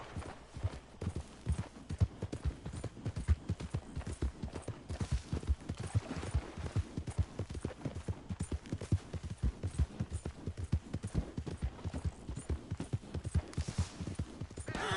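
Galloping horse hooves in Red Dead Redemption 2, a rapid, steady clip-clop rhythm that is close and loud and runs the whole time without pause.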